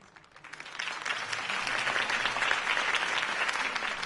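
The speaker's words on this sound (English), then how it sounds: "If only Mr. Wayne, my campaign's largest backer, could have heard that applause" A crowd in the Batman Telltale video game applauding after a campaign speech, clapping swelling from quiet to a steady, dense, fairly distant roar that holds to the end with no talk.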